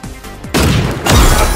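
Loud, close gunshots in a mecha-themed battle royale video game: two heavy booming blasts half a second apart, each with a long rumbling tail over constant game noise.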